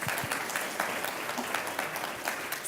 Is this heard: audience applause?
yes